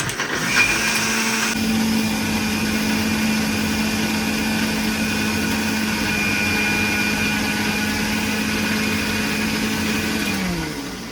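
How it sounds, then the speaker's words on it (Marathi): An electric mixer grinder whirs steadily while grinding chutney in a home kitchen, a loud continuous motor whine that holds for about ten seconds before winding down, with no talking. "टी व्ही बघताना जर हे मिक्सर चालू केलं ना जाम इरिटेट होतं"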